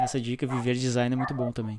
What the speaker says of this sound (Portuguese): Olha os cachorros no fundo, ó.